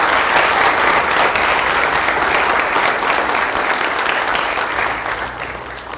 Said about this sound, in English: could you give a really loud round of applause now to Juniper